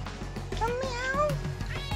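A cat meows in a drawn-out, wavering call, fairly close and clear, amid low indoor background noise with some nearby movement and no clear talking.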